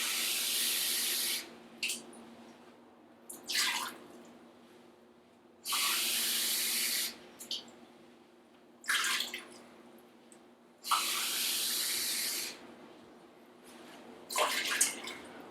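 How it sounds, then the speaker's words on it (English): Water is poured from a measuring cup into an Instant Pot in several short, splashy bursts with quiet pauses between them, close and moderately faint. "put 3 cups of water in the Instant Pot"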